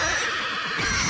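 A horse in the video game Ghost of Yotei lets out a short, loud whinny that rises and falls over about a second, close and clear.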